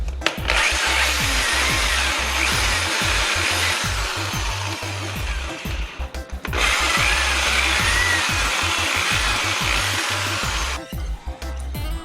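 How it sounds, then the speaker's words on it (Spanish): Power drill with a bit boring into wood while a rustic wooden lamp is built, a loud steady whirring grind that runs continuously, breaks off briefly near six seconds, then resumes before tapering at the end. "voy a hacer jugar la broca un poco adentro para poder darle más espacio y que se deslice más fácilmente"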